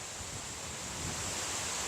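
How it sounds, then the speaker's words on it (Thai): Strong wind gusting on the Mekong riverbank among teak woodland, a steady, loud broadband roar with heavy buffeting on the microphone throughout and no talk. "อยู่ริมโขงลมแรงมากเลย"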